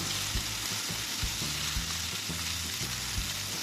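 Garlic, onion and tomato sauté in a hot pan, a constant crackling sizzle broken by regular scraping stirs, close and steady with no talking.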